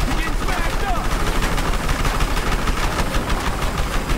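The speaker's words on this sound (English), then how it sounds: "Bullets! Bullets. So many bullets." Dense rapid gunfire in the Battlefield Hardline video game during a Dustbowl Conquest match, loud continuous bursts with engine rumble and players talking over it.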